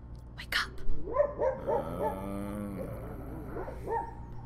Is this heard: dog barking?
yes